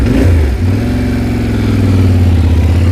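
A Yamaha T7 adventure motorcycle engine runs steadily near the listener, a loud, low rumble with a brief dip in revs before it holds an even, throaty note throughout. No one speaks.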